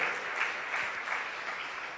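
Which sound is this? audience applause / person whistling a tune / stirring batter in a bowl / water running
audience applause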